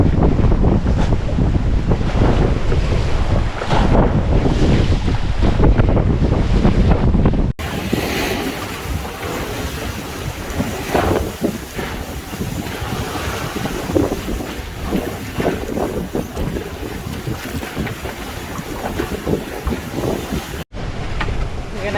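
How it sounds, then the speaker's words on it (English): Sailboat under way off the Pacific coast of Central America, with steady wind roar buffeting the microphone and water rushing along the hull, loud and continuous throughout with brief cuts between segments. "Finally reached a place where the whole trip we can go sailing"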